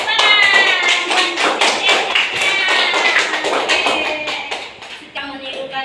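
Children in a classroom clap their hands together in a fast, loud, irregular burst close by, with voices mixed in with the clapping.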